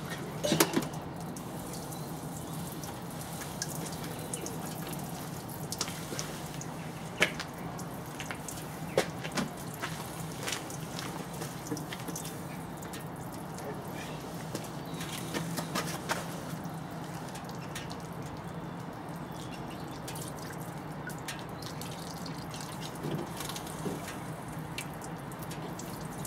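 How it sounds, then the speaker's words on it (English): Coolant drips and trickles from a Mk2 Golf engine during a coolant change and flush, a faint, continuous watery patter with occasional sharper drips over a low, steady background hum. "And you get a shower of coolant."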